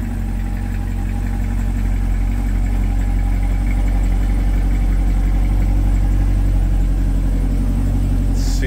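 Engine of a 2024 Chevrolet Corvette C8 or Camaro running close by in a steady, loud, even rumble with no clear rise in revs, and no voices.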